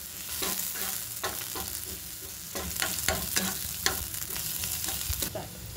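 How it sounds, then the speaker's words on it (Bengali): Chopped onion and green chilli sizzle in a pan while a spatula stirs them, producing repeated scraping strokes over a steady frying hiss, close and fairly loud. "এটাকে হালকা করে ভালো করে নেড়ে নেব।"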